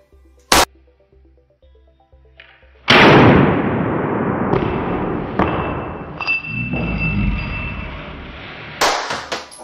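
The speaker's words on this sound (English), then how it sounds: "I'm going to be shooting it with 124 grain plus P 9mm, coming out of my TriStar T120." A 124 grain +P 9mm round from a TriStar T120 pistol slams into a 3A bulletproof jacket with a sharp report, then a long loud ringing, clattering wash; a few smaller thumps and clicks come before it and another crack follows.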